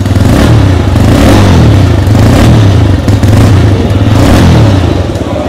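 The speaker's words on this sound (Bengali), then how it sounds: "চলুন সবশেষে এর এক্সস্ট সাউন্ড শোনা যাক।" 2025 TVS Raider 125 iGO motorcycle exhaust: a loud, close single-cylinder thump with a steady pulsing rhythm and slight revving swells, heard alone.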